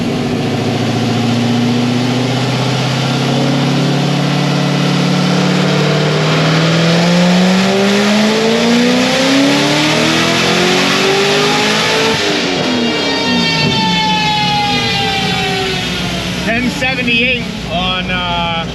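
A boosted Corvette C6 ZR1 engine roars through a dyno pull, the pitch climbing steadily through the gears to a loud, sustained high-rev wail before backing off near the end.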